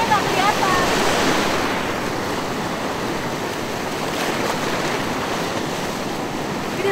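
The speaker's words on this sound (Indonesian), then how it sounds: "Gede banget ombaknya." Big ocean waves break on a Bali beach, a loud, continuous crashing surf with heavy wind buffeting the microphone, one large wave swelling at the start before settling into a steady roar.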